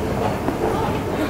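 A Stockholm subway train rumbles and rattles steadily from inside the carriage, a constant loud wash of wheel and track noise with no pauses.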